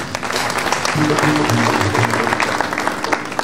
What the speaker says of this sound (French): Est-ce que nous ne pouvons pas applaudir pour cette vision?